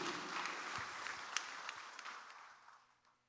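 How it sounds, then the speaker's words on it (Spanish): A church congregation applauds during a sermon at a patronal festival in Xoxlac, Barillas, with steady clapping that is fairly faint and slowly fades out toward the end. "Fuerte aplausos para Icham San José"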